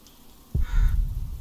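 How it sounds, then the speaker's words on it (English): Crows cawing in The Pillars of the Earth video game, a short burst of harsh calls that starts abruptly mid-clip, fairly close against quiet ambience. "Pesky birds."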